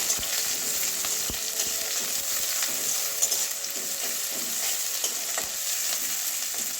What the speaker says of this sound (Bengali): এবারে এই যে পেঁয়াজ কুচি দিয়ে দিচ্ছি একটা মিডিয়াম সাইজের পেঁয়াজ দিলেও হয় না দিলেও হয় আমি দিয়ে দিচ্ছি এবারে এটাও ভেজে নেবো